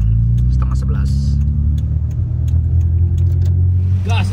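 An old Mitsubishi Galant V6 sedan accelerates steadily along a road on a Sumatran road trip, its engine a continuous loud, low rumble throughout, with faint clicks and brief voices in the cabin near the end.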